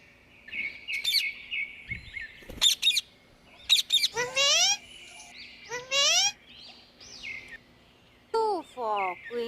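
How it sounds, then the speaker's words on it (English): A parrot calling, bright repeated chirps and squawking whistles that rise and fall in short bursts with gaps between, clear and close against a quiet background. "P for parrot."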